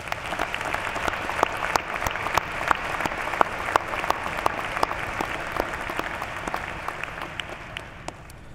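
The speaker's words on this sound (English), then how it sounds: "Let's take a moment to thank them with a round of applause for the love, support, and sacrifice that has led to this wonderful occasion." A graduation audience at Butler University's spring commencement claps for parents and families, a dense, steady round of applause filling the hall with sharp individual claps standing out throughout, gradually thinning toward the end.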